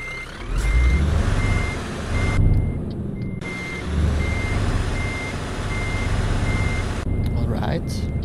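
A truck reverses with its trailer in Scania Truck Driving Simulator, steady evenly spaced warning beeps repeating over a deep engine rumble while someone talks.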